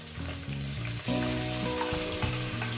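Fish sizzling in a hot pan of oil with spices for a Bengali fish curry, a steady close crackle and hiss under which a loud musical backing plays throughout.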